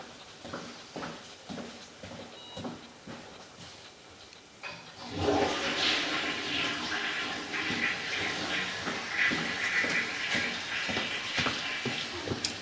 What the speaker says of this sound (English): I can just flush the toilet and you can watch that